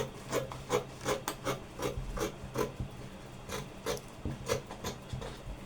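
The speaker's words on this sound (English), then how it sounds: "I'll cut out the back neckline for both the two." Scissors slice through fabric along the neckline of a ruched kimono jacket, a steady run of close, rasping snips repeating roughly every half second with soft rubbing in between, heard alone.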